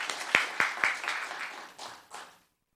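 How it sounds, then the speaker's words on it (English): Short burst of audience applause at a Los Gatos town council meeting honoring a poetry winner, a few sharp claps up front then a thinning patter that fades out within about two seconds. "Another round of applause for Yash,"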